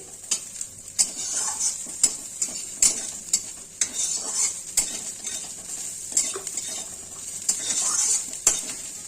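Tangra fish frying in a pan are stirred with a utensil, making rhythmic scraping clicks and taps against the metal over a continuous close sizzle.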